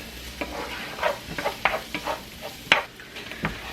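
Sun-dried tomatoes and garlic being stirred in a hot pan, soft sizzling under a series of irregular scraping and clinking strokes of a utensil, close and fairly quiet.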